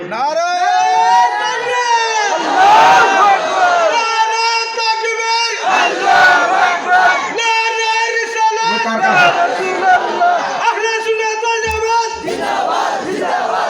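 A large crowd loudly chanting takbir, Allahu Akbar, in repeated rhythmic waves of massed voices, near and loud throughout.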